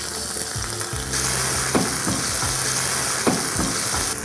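Tomatoes drop into hot oil with ginger garlic paste and mustard seeds for a Nellore fish curry, setting off a loud, steady sizzle close up, with a few stirring scrapes.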